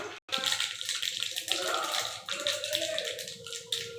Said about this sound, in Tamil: கடுகு நல்லா பொரிஞ்சிட்ருக்கு.